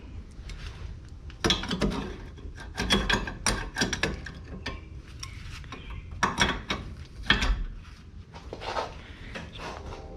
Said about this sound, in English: Save some time, I'll just use the air tools. Now really we just gotta loosen up this bottom bolt.